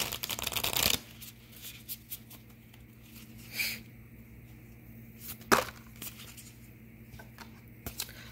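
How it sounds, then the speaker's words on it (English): Moon tarot cards are shuffled close up. A long riffle is followed by several short, crisp flicks and slaps of cards, with no talk. "Let's get the moon cards."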